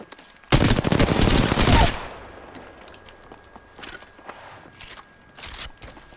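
A loud burst of rapid automatic gunfire from a shooter video game rattles for over a second, followed by quieter scattered shots and clicks in the background.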